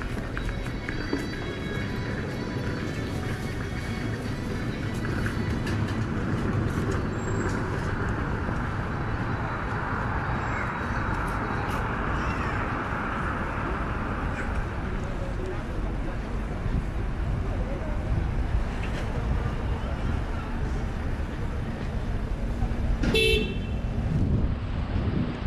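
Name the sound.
light road traffic on a street in Southall, London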